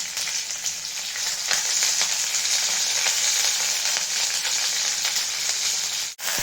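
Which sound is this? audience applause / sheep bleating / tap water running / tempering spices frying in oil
tempering spices frying in oil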